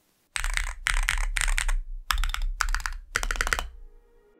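Clacky typing on a Neo65 Sonic He+ keyboard with a thin body, rapid keystrokes coming in several dense bursts separated by short pauses, close and fairly loud with no talking.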